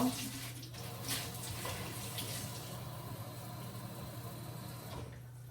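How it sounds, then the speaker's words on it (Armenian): Tap water runs steadily into a cooking pot of potatoes, filling until the potatoes are just covered, a continuous close-up splashing hiss with a low hum beneath and a brief pause near the end. "ջուր եմ ավելացնում, այնքան որ կարտոֆիլը հազիվ ծածկի։"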